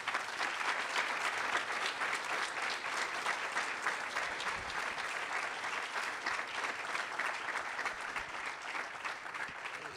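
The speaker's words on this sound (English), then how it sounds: "Give them a big round of applause." An audience at an OECD Forum 2014 session applauds its panelists, with sustained, dense clapping that carries evenly for the full span and no talk over it.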